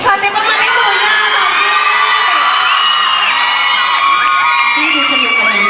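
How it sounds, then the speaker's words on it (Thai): A crowd at a cooking event opening for a pork noodle dish cheers and shouts loudly and continuously, with whoops and yells dominating over any clapping. "ขอเสียงปรบมือให้หมูยอสอง"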